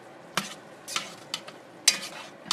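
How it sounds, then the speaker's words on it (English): A spoon scrapes and knocks around a pot of beef chili with freshly added rinsed beans, giving several short, separate stirring clatters at an uneven pace, close and fairly quiet, with no talk. "Go ahead and give this a nice stir."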